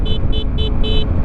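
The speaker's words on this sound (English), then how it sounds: "I'm gonna honk at these people" A motorcycle horn honks four quick times in a row, loud and close, over a constant rumble of engine and wind noise while riding.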